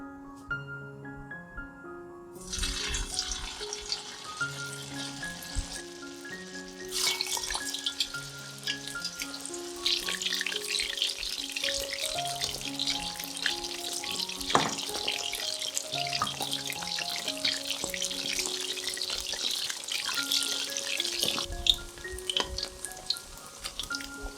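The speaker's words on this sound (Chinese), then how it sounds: "倒入适量的油，待油热后放入鲍鱼菇，炸至表面金黄。" Oyster mushrooms deep-frying in hot oil, a steady bright sizzle that swells midway and holds under continuous melodic background music.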